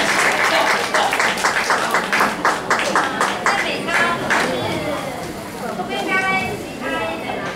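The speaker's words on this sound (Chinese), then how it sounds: "我们掌声欢迎他们。" An audience applauds at a church community Christmas celebration before a praise dance, loud steady clapping that tapers off as a voice speaks over the room.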